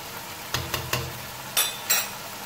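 Whole cumin and spices for chicken pulao hit hot oil in a pan, giving a constant sizzle with several sharp clinks and scrapes of stirring spaced irregularly through it, close and fairly loud, with no voices.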